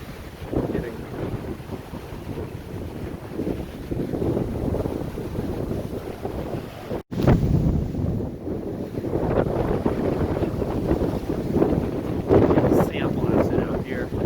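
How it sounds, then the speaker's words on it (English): Strong wind roars across a Lake Michigan beach at Kemil Beach, Indiana, a loud continuous rumbling buffet on the microphone with one brief dropout midway. "very, very windy."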